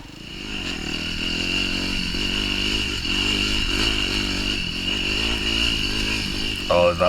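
A KTM 150 or YZ250f dirt bike rides single track near Moab, Utah, its engine buzzing loud and steady with small rises in revs as it pops a wheelie, and a brief clatter near the end.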